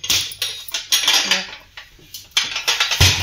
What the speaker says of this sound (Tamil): வடைச்சட்டி, அதுக்கடுத்து சின்ன சட்டி, அதுக்கடுத்து பெரிய சட்டி, அதுக்கடுத்து மூடி எடுத்து மூடிடும்